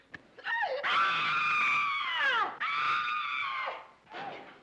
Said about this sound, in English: Did I hear somebody scream?